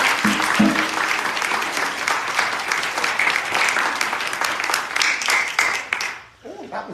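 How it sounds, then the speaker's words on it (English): A church congregation gives a sustained round of dense clapping for about six seconds, then it stops abruptly, leaving faint voices and room sounds. "That was a good clap."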